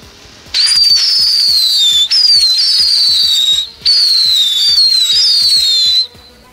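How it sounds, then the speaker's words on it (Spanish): Small Mexican whistling firecrackers (silbatines) go off outdoors, loud and close: three or four sustained shrill whistles of a second or two each, one after another, with faint crackling between them and no talk. "Pues esos fueron los silbatines, los primeritos."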